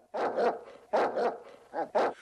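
A dog barks loudly and close by in four sharp, evenly spaced woofs, with no other sounds between them.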